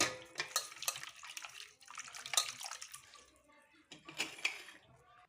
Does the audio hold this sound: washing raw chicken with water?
yes